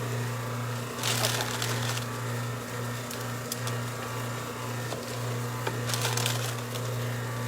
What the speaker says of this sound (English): and then I cut it in half.